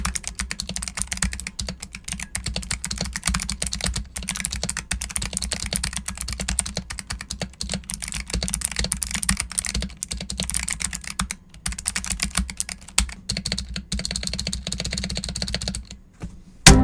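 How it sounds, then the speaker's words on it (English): Rapid, continuous typing on a Razer Huntsman Mini mechanical keyboard with clicky purple switches and added foam, dense keystrokes with a muted, thocky character and a few brief pauses, close up and without speech. "this is how it's going to sound"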